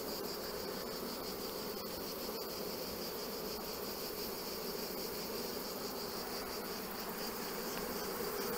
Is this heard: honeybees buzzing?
yes